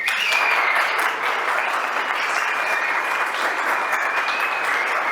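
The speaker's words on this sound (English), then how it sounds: "Big applause for her." A conference audience applauds in a steady, dense wash of clapping from many hands that fills the hall from start to finish, with no talk over it.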